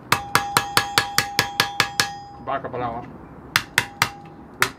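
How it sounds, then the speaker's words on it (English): Sharp, close hammer blows on metal as a tinker works, a quick run of about ten evenly spaced taps, then a short pause while someone speaks, then a few more strikes. "Go on, tip it with the hammer."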